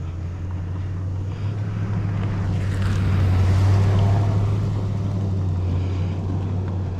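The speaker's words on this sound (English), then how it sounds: "Let's pull over and let this truck get by." A truck passes close on a road, a rising and fading rumble peaking mid-way over a steady low drone and outdoor wind.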